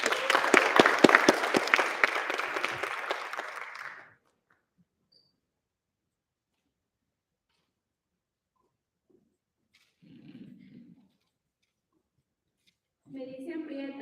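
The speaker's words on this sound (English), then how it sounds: "Clap it up, please." An audience at a Black History Month read-in applauds for a performer, a close burst of many hands clapping for about four seconds before fading into silence, followed later by brief murmuring voices.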